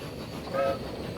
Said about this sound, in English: Big old chunky train you've got.